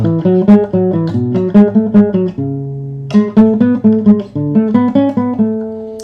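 A clean guitar picks a repeating melodic scale pattern, note by note in an even rhythm, moving up step by step, loud and close.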